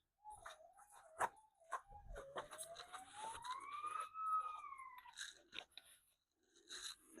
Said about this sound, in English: They're playing the sirens next door or something.